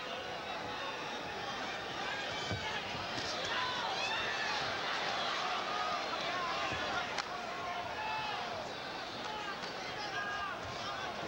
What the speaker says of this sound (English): Crowd again vocalizing their displeasure at the inactivity